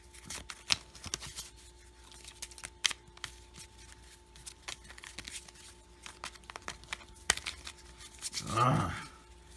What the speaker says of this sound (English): that's probably the best way to shuffle these, to make sure the loose ones are not just sitting there on top